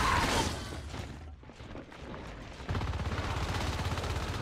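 Rapid automatic gunfire in the video game Natural Selection 2, loud bursts at the start, then a dense, fast stutter of shots running steadily through the second half, with no talking.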